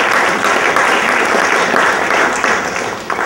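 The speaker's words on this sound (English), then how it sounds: "You all ought to give yourself a round of applause" An audience at a political debate event gives a round of applause. Loud, close and unbroken clapping fills the space and eases slightly at the very end.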